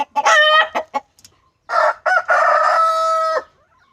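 A rooster crows loudly and close by, two long drawn-out calls, with a few short clucks in between.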